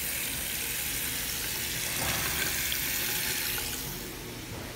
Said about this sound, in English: he's using the sensor here, but the water is coming out this way